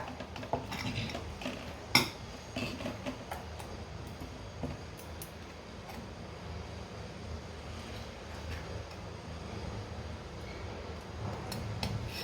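A spoon clinks and scrapes against a bowl while corn pakora batter is mixed with flour, a busy close rattle of light taps and stirring with one sharper knock early on.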